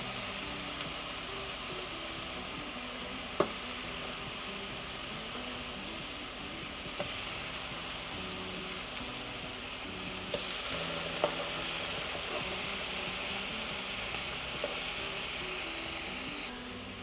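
Pork burger patties sizzle steadily in a frying pan, a continuous close hiss with a few faint clicks and no talking.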